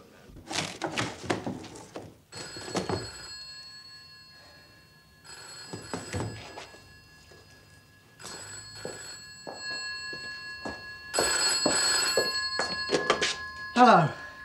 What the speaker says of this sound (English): Wasn't expecting the phone to ring.